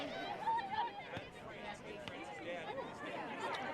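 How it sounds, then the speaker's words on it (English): Crowd at a girls' varsity soccer game murmurs and chatters in a restless, overlapping babble, moderately distant, with voices rising and falling throughout. "I hear the crowd getting frustrated with the clock pausing and picking up and pausing"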